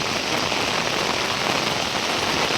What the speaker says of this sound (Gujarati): જોઈ શકો છો કેટલો વરસાદ પડી રહ્યો છે અત્યારે